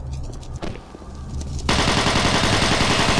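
Rapid automatic fire from the Hypersonic-Machinegun Pistol in Doom 3 erupts after a quieter stretch of game ambience, then continues as a loud, dense, unbroken rattle of shots.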